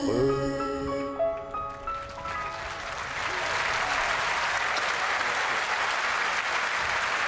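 Concert audience applauding at an outdoor tribute show after a sung duet; sustained, dense clapping from a large crowd rises as the final sung notes fade and keeps going steadily to the end.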